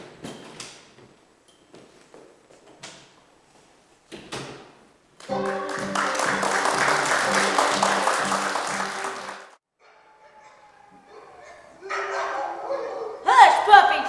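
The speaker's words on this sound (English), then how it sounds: "All this yapping and hollering is wearing me out." Hound dogs barking and yapping in a noisy burst: scattered sharp yips, then a dense stretch of overlapping barks and howls, then quieter yaps, with voices speaking in between.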